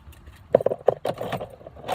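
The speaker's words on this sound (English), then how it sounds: "we're going to use Mr. Bertram's keys, and we're going to fire it up" A bunch of keys jangling in short metallic bursts, close up, as they are used to start a 2013 VW Jetta SE after a battery replacement, with a faint low engine rumble underneath.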